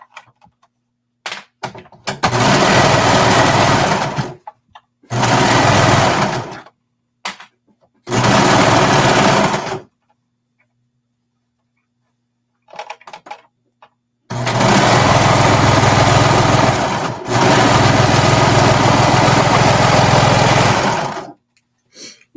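A sewing machine runs in four bursts while stitching an Ursula-themed leggings skirt: three short runs, then a long steady run, close and loud with quiet pauses between.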